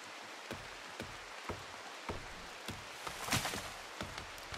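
Rain falling in the RimWorld video game: a steady hiss of rainfall with scattered distinct drop taps at irregular intervals and one louder burst, all fairly near and even.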